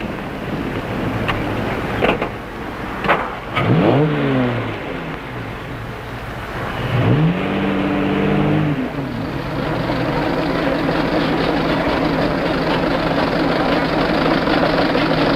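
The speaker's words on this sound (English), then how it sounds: "Here is the Stanley steamer, ready to defend its honor against the Model T." Antique cars race in a 1954 black-and-white film, a Stanley Steamer against a Model T: a continuous rumbling engine drone with two loud sweeping pass-bys that rise and fall in pitch, then the engine noise carries on steadily.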